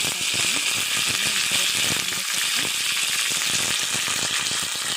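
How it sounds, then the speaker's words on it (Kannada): Fresh ginger and cumin masala fries in a hot pan with a loud, steady sizzle and crackle that runs the whole time, close up and uninterrupted, with no voices. "ಅದೊಂದು ಸ್ವಲ್ಪ ಫ್ರೈ ಆಗುತ್ತೆ"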